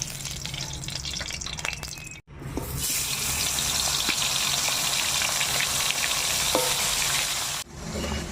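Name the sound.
chital fish frying in oil in a wok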